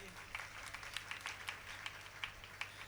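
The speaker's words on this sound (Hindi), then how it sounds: "इनकी मेहनत के लिए ताली बजा दीजिए" Scattered hand claps from an audience at a religious gathering in Katangi honour volunteers' hard work, with distinct individual claps popping out of a faint, steady patter.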